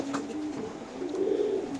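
Racing pigeons coo at a pigeon farm, a low rolling call repeating close by, swelling louder toward the end over a murmur of other birds.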